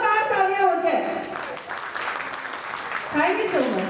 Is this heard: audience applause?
yes